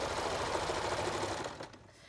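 A sewing machine stitching a cloth face mask runs in a steady, fast mechanical whir close by, then slows and stops near the end.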